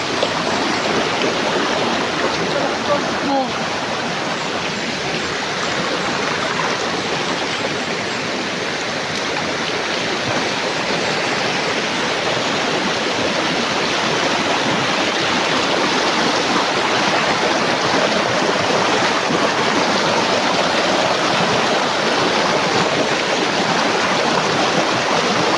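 A creek flows with a constant, even rush of water that stays loud and unbroken throughout, with no voices.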